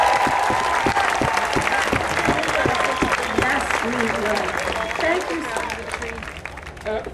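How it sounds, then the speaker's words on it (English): Crowd at an anti-hydrofracking rally in Albany clapping loudly and continuously, dense applause with cheers and voices woven through, easing slightly near the end. "Thank you for that applause."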